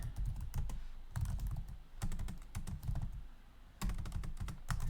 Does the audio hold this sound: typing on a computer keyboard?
yes